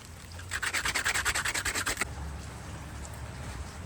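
A wooden climbing hold is sanded with coarse 60-grit sandpaper: about a dozen quick, rhythmic rasping strokes, loud and close, that stop abruptly and leave quiet room tone.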